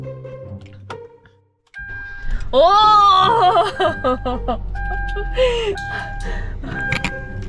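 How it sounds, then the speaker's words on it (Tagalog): A car engine cranks and catches, rising into a loud running idle with a chirping electronic tone, while a person exclaims and talks over it. "di ba nag-start yung sasakyan?"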